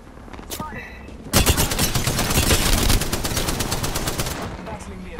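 Rapid bursts of automatic gunfire in the battle royale game Apex Legends, loud and sustained for several seconds after a few scattered earlier shots, with players talking faintly underneath.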